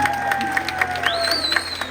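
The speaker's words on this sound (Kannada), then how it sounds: "ಒಂದು ಚಪ್ಪಾಳೆ ಕೊಡಿ." An audience claps at a live song performance, a short burst of applause with a high electronic whine running through it.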